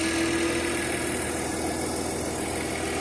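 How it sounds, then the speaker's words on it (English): Radiator cooling fan on a BMW E46 running with the engine warm, a steady broadband whoosh and hum with an even, unbroken drone throughout, fairly close. "And the cooling fan is now running."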